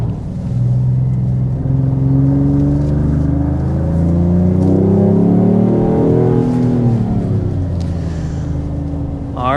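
A 2026 Dodge Charger Sixpack, a 550 horsepower muscle car, drives on a winding mountain road, its engine loud and close as it climbs through the gears, with pitch rising and falling through several shifts.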